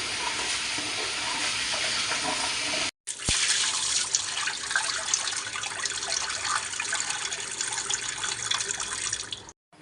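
Moong dal is washed under a running kitchen tap for payasam, with a steady loud gush of water splashing into a vessel that stops briefly, then resumes; no speech.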